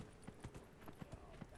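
Horse hooves clip-clop steadily in Dragon Age: Inquisition, a quick regular rhythm of soft thuds under a faint game ambience.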